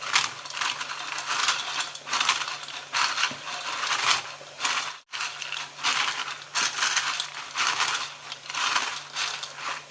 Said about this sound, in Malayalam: ഒന്ന് ഉടച്ചെടുക്കാം.